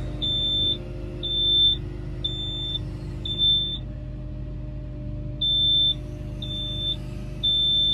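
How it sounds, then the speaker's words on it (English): Repeated high-pitched electronic warning beeps in short bursts from a John Deere 190GW wheeled excavator, over a steady low machine rumble and engine drone. "how to turn that beeping off"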